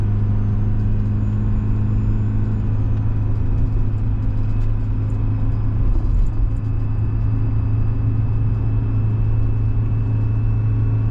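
A Garrett turbocharger on a Detroit 4-53T diesel engine whines steadily and high over a loud, constant low diesel rumble, with no pause for the full length.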